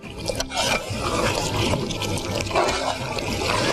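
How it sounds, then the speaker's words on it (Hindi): Mutton stock (yakhni) pours into a pot of korma in a continuous close, full watery gush lasting a few seconds. "और अब इसमें यखनी डालेंगे और कोरमे को हम दम पे रखेंगे"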